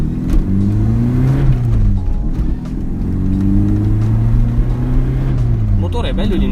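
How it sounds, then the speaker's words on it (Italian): The 1.8-litre 110 hp engine of a second-generation Volkswagen Golf GTI revs up and down several times, climbing and falling in pitch, loud and close inside the car, while someone talks over it. "Il motore è bello lineare, bello corposo, ti porta su"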